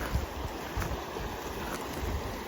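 A cold mountain river on a Colorado hiking trail flows under snow and ice, giving a steady close rushing wash with low gurgling that holds at an even level throughout.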